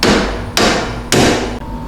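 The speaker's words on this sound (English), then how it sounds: "we'll take our long rod for our punch, and we'll try to hammer this in." Three sharp metallic hammer strikes on a long rod punch driving a pivot pin into a UTV rear bumper, evenly spaced about half a second apart, each ringing briefly before the next blow.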